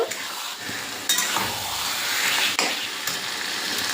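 Biryani spices and marinated chicken sautéing with salt in a pan at home, a steady loud sizzle with stirring scrapes and a couple of sharp clinks, no voices.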